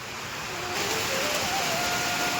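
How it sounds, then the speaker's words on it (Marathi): Heavy rain pours steadily onto a farmer's pigeon pea crop field, a dense, even hiss with no pauses and no voices. "तुम्हाला दाखवतो बघा हा पाऊस"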